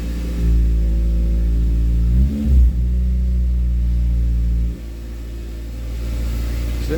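A Toyota car with a 1ZZ engine idling and revving through PPE headers and a straight pipe, a deep loud droning exhaust with a short rev burst partway, then settling to a lower steady idle.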